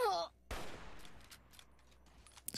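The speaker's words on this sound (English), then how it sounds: "Yeah, I see you shooting at me." Enemy gunfire in Fallout New Vegas, a short burst of shots followed by a loud crack and fading echoing reports, with a brief voice at the start.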